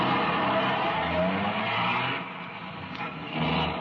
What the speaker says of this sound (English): half the Dragnet crew pulled out of the police garage and scattered over the city to their places